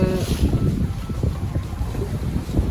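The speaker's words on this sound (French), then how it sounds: "On a pas mal de vent" Strong wind of 14 to 20 knots buffets the microphone in gusty, rumbling bursts, with water and sailboat noise underneath at sea in the Gulf of Cagliari.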